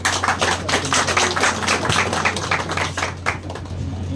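An audience at a ceremony for a new director general of a vehicle insurance office applauds with dense, steady clapping, moderately close, with a low hum underneath and no talk.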